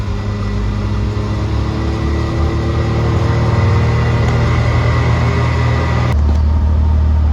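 Can-Am X3 side-by-side engine droning loud and steady from inside the cab while driving, with a low rumble that shifts near the end.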